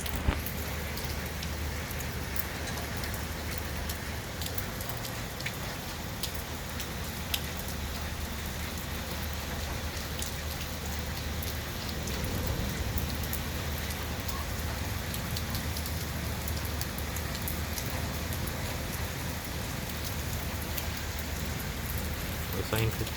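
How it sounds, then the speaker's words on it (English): Heavy rain falls steadily over Chennai ahead of a cyclone, a dense, constant hiss and patter on surfaces that never lets up, with a low rumble underneath. "It's a good rainfall."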